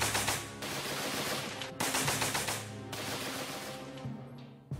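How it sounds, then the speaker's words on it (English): Machine gun fire rattles in long continuous bursts, loud rapid automatic shots sweeping on with short gaps between strings, recorded for an Army infantry weapons presentation. "They would sweep the machine guns from side to side across the battlefield."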